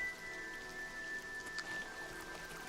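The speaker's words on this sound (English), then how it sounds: "It's raining." Soft, steady rainfall patters in the Oblivion Remastered game world, a faint continuous wash of raindrops with a thin tonal hum running beneath it and no voices.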